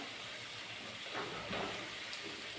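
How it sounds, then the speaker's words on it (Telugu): Samosas deep-fry in hot oil with a constant, faint hissing bubble that swells slightly midway, heard alone without talk. "వేడి నూనె వేడయ్యాక వేసుకుంటే ఇలా తొందరగా ఫ్రై అవుతుందండి"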